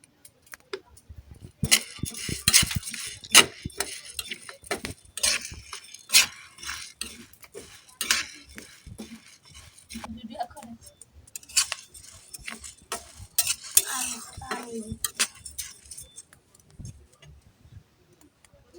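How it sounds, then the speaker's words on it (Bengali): Wheat grains roasting in a pan, with scattered sharp pops and crackles arriving in irregular bursts, some clustered tightly and others isolated, close and fairly crisp, with no talking. "কি সুন্দর করে ফুটছে শব্দ হয়তো বা আপনারা বুঝতেই পারতেছেন"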